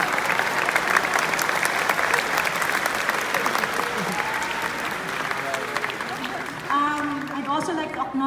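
Gala-night film screening audience applauding steadily, a dense wash of clapping with crowd murmur and faint voices rising beneath it toward the end.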